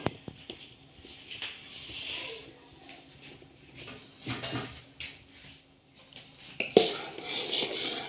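Metal utensil scraping and clinking against a pot while stirring vermicelli payasam, in irregular bursts, moderately close, with a brief sharper clank near the end.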